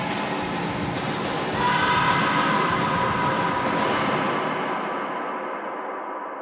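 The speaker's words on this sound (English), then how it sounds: "we could get quite a long reverb tail out of this thing" A dense, washy reverberant sound swells and then slowly decays into a long, smooth tail that fades out over several seconds.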